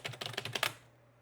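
Someone rapidly and repeatedly presses the delete key on a computer keyboard, about seven quick, close clicks in a burst before it goes quiet.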